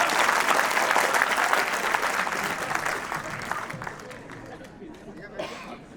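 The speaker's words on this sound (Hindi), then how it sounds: "तालियों के साथ स्वागत करिएगा।" An audience applauds, steady and dense at first, then gradually thinning and fading, with some chatter in the crowd beneath it.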